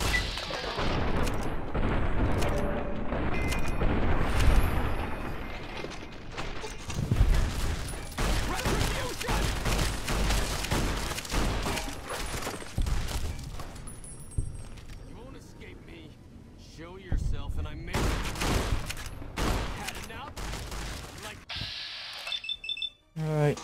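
Gunfire and explosive booms from the video game Fallout: New Vegas, set during the Hoover Dam battle, come as dense repeated bursts and blasts through most of the stretch, mixed with a voice talking over the action.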